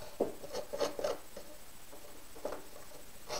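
A scissor blade scrapes along the edge of a paper card to give it a worn, vintage shabby look: a quick cluster of dry, raspy strokes close up, a pause, then a couple more scrapes.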